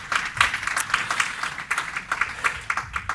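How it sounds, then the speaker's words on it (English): Light, scattered clapping from a small conference audience in London, fairly faint and brief, with irregular claps over a few seconds. "A round of applause for both of them, please."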